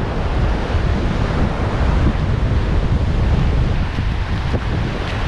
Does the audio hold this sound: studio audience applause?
no